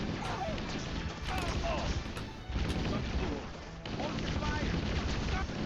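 Grenade blasts and gunfire in the Halo: Combat Evolved level Silent Cartographer, dense explosive booms and crashes layered with continuous game noise and a voice talking over the action.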